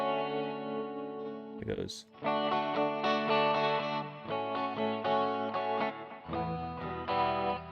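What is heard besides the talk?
electric guitar through effects unit with distortion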